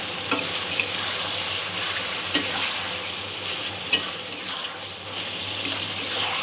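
A chicken mixture in coconut milk gets stirred and mixed in a pan, with a soft sizzle underneath and a few sharp spoon scrapes and clacks, close up with no talking.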